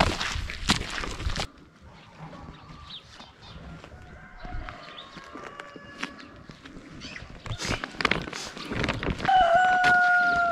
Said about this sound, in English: You already know you're in a village when you hear chickens.